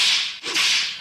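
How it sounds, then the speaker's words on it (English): A single sharp whip crack as a sound effect, a dry snap preceded by a swishing hiss, close and loud, with no talk. "you might hear a couple whips and cracking in the background"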